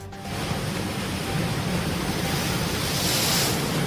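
Sea waves surge onto the shore at Veliyathamparambu in Ernakulam during a coastal sea incursion, a steady, loud wash of rushing water with wind noise, continuous and with no voices.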